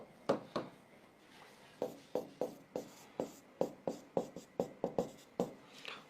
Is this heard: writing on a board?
yes